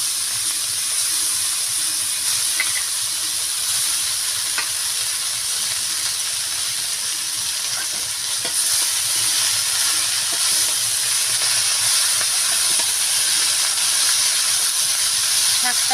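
Greens sizzling in a pan with katla fish head, salt and spice powder, a loud steady hiss and crackle of frying that runs unbroken and close.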